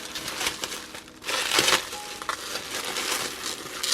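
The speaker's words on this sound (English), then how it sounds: "I'm gonna actually try to unwrap this the way you're supposed to." Plastic wrapping being peeled and crinkled off a new iPhone 5C box, close crackling and rustling bursts with a louder crumple in the middle.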